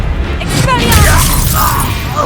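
Expelliarmus spell cast in Hogwarts Legacy, heard as a sharp, shattering magical burst with a boom, set over ongoing game noise and a voice talking.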